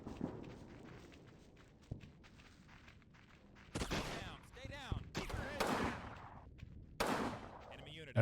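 Gunfire in a World War II hedgerow battle, squads opening fire on German soldiers who shoot back: after a quiet stretch with footsteps, sharp bursts of shots and volleys ring out repeatedly, loud and close, with broadband cracks and echoing tails.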